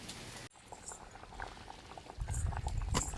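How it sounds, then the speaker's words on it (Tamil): A pot of bitter gourd tamarind curry boiling on a stove, a steady close bubbling and popping that grows louder and busier toward the end, with no voices. "குழம்பு வந்து கொதிச்சிச்சு ஒரு கொதிச்சுக்கிட்டு இருக்கு இங்கே பாருங்கள்"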